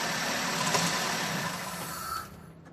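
A Xenia/Avanza engine running during a power steering oil flush: a steady low idling hum for a couple of seconds that drops away near the end as the engine is shut off.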